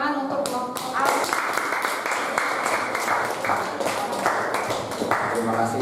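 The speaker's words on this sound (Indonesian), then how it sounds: "Tepuk tangan untuk kelompok A." A classroom group claps together for several seconds, the sharp individual claps audible within a moderate burst of applause that continues steadily.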